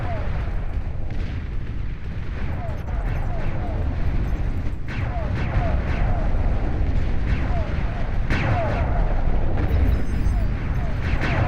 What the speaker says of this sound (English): Overwhelming fire. Resounding gunfire.